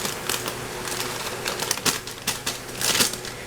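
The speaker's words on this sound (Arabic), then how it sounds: "هفضي اللبن بتاعي جوه البرطمان" Powdered milk pours into a kitchen jar with a dry, crackling rustle full of tiny ticks, steady and close for a few seconds with no talking.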